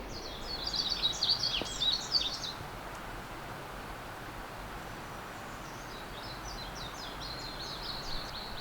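Birds sing along a forest trail at Sutasa temple in Hongcheon: a lively burst of high chirping at first, then fainter, scattered calls over a steady soft background wash, with no voices.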